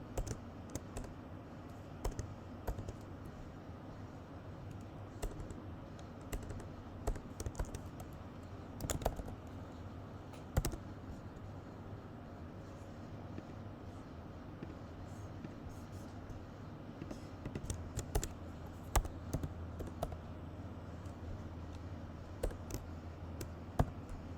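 Steady close keyboard typing on a computer keyboard during coding, with bursts of rapid key clicks and occasional louder taps over a low background hum.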